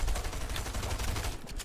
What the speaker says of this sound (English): They're shooting through the bush